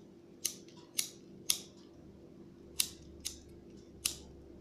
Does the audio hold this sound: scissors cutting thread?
yes